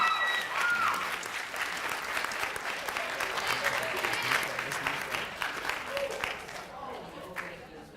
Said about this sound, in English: Please join me in another round of applause for our Ready Writing participants, 6th grade